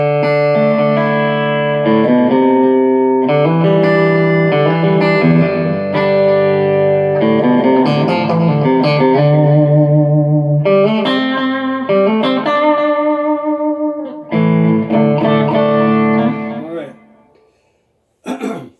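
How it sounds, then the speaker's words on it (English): An electric guitar through a compressor and simple delay plays a steady, sustained melodic line with smooth, even dynamics and echoing repeats trailing each note, loud and close, with no voices. "I'm going to keep the compressor on and add some simple delay."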